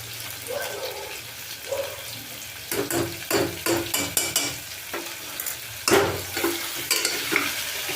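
Chopped ginger frying and being stirred in a pan for khichuri, a low sizzle broken by a series of sharp spoon scrapes and taps against the pan, close and fairly loud.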